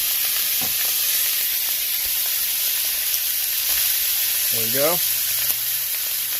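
Butter sizzling and frying in a pan for a budget steak dinner, a steady loud hiss throughout with a brief clatter, while a person talks over it.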